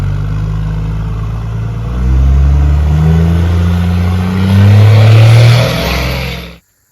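Big, crusty Dodge Ram 2500 4x4 truck with a large exhaust pipe out the bed, revving loudly and close, the engine roar swelling twice before cutting off abruptly.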